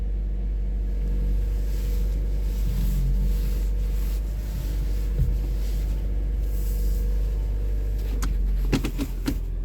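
A 2023 Toyota Corolla LE idles after a cold start on a 35-degree day, a steady low engine rumble heard up close with faint wind noise, ending in a few sharp clicks and knocks.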